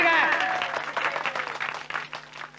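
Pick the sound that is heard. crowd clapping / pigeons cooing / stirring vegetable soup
crowd clapping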